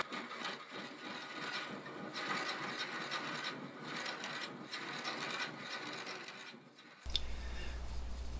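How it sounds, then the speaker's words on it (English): A drill fitted with a 1¼ inch bit bores holes into a block of sequoia wood, giving a continuous grinding, churning whir with rhythmic surges that cuts off abruptly into a low steady hum. "I want to get set up and drill some holes in here."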